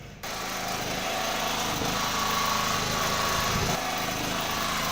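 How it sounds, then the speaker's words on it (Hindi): A generator engine runs steadily and loud, powering welding work, with a constant mechanical drone that starts abruptly and holds throughout. "ये जनरेटर भी मेरा कंपनी वाला है"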